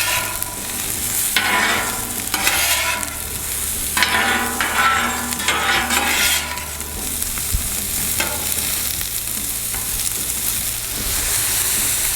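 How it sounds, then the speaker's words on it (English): Mushrooms and onions frying on a Camp Chef FTG600 flat top griddle, a steady close sizzle with bursts of scraping and stirring from a spatula, continuous throughout with no talking. "Let's start sweating down these veggies. All right, let's start with these mushrooms"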